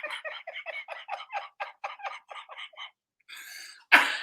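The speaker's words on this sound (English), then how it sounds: "I'm trying to get over this cough again" A person with a lingering cough breaks into a long fit of rapid, rhythmic coughs that trail off, followed by a raspy breath and then one sharp, loud cough.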